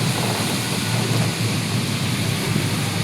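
Heavy monsoon rain lashes a street in Kathmandu's New Road area, making a steady, dense roar with a deep low rumble underneath and no breaks.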